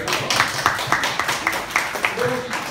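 Audience clapping for teachers at a girls' high school event, a steady patter of many hands close by with voices mixed in throughout.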